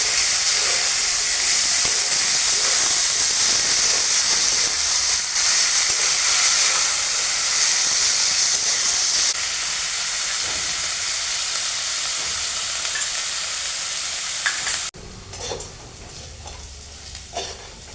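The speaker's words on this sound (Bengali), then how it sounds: "গাজর আর বিনসটাকে লবণ দিয়ে একটু ভালো করে ভেজে নেব।" Carrots and beans fry with salt over a clay stove, a loud continuous sizzle with stirring scrapes that drops to a softer hiss partway through, then falls away to near quiet with faint clinks.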